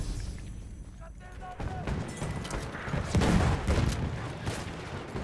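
Gunfire in the World War I shooter Battlefield 1, with mixed shots and distant booms of a busy battlefield, the firing swelling in the middle while a voice talks over it.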